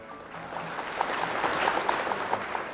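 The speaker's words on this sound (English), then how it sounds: "There was a crowd letting out a loud cheer." Parents and teachers in a large stadium in Dublin at a children's gymnastics medal ceremony clap and cheer, a steady wash of applause with scattered sharper claps, heard from a distance.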